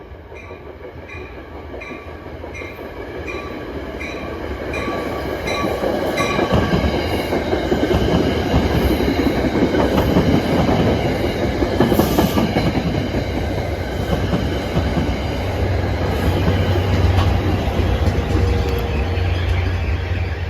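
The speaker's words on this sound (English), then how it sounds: "It was an equipment train with the poor man's armed forces unit." An eastbound equipment train rolls past a station, a long, loud, steady rumble with rhythmic clickety-clack of wheels on rail joints and faint wheel squeal, building and then holding close by.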